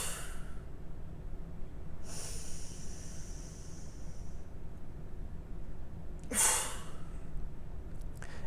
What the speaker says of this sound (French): tu vas prendre un peu plus d'air et tu vas expulser l'air un peu plus rapidement